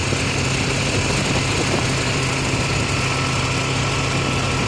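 A motorboat's engine drones loudly and continuously on the Ganges at Varanasi, a dense steady rumble with no pauses, close and unbroken throughout.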